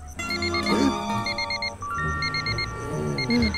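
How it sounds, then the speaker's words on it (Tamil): Alarm clock ringing indoors in repeated bursts of high electronic beeps, loud and close, with a rising tone partway through and brief low background sounds. "மணி 1 ஆச்சு, அலாரம் அடிக்கும் பாரு."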